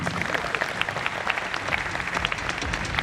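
Audience applause fills a distributor training event, a dense patter of many hands clapping at moderate distance, steady and unbroken throughout.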